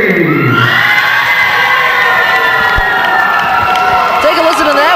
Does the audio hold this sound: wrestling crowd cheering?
yes